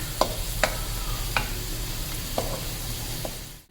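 Onions sizzle steadily in a hot pan, with a few sharp scrapes of a spatula stirring them at irregular intervals.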